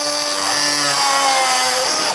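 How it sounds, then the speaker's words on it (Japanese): A Makita 18V compact cutter slices through thick wire mesh with a loud, steady high-pitched grinding whine that holds for about two seconds and then cuts off. "じゃあちょっとこれ細いワイヤーメッシュなんだけど、もうちょい太いやつもあるんでそっちも切ってみます。"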